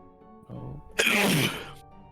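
A single loud sneeze bursts out after a faint breathy lead-in, then fades quickly, close to the mic during an online tabletop roleplaying game session.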